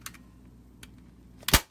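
A commercial staple gun driving 1/4 inch staples through folded pipe cleaners: a few faint clicks and handling taps, then one sharp, loud snap near the end.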